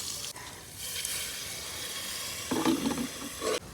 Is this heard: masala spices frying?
yes